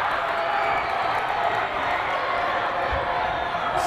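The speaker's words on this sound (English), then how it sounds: "Skyridge students trying to cheer on their defense" Student section crowd cheering through a high school boys basketball game between Lone Peak and Skyridge in a gym, a steady dense roar of voices with whoops and a few claps running throughout.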